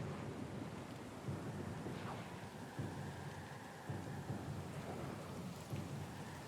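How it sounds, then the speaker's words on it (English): Thunderstorm in the fantasy game Pillars of Eternity II: Deadfire, with steady heavy rain and wind washing over everything and several low rumbles of thunder rolling through, loud and continuous. "The storm's pretty loud."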